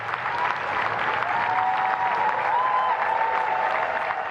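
A rapturous crowd greets the arrival of the new Prime Minister, Burnham, and his wife Marie-France with loud, dense, sustained applause that holds steady throughout.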